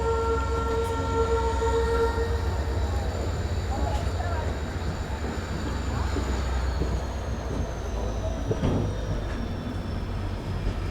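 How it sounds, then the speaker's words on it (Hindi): The Panvel Nanded Express stands at platform 3 of a busy Indian railway station, its loud rumbling engine drone and a long horn blast carrying through steady station noise. "ये है पनवेल नांदेड़ एक्सप्रेस, जो कि प्लेटफॉर्म नंबर 3 पर आई है।"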